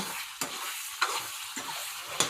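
Cut boiled eggs sautéing in spicy masala, turned over and over in the pan: a faint sizzle broken by several distinct spatula scrapes, no talking.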